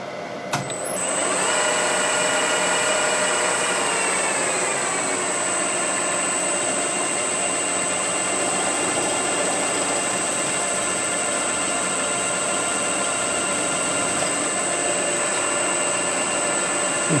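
A drill bores steadily into a broken-off bolt through a guide on a cylinder head, a continuous loud high-pitched whine that starts after a brief click and holds evenly throughout, with no speech.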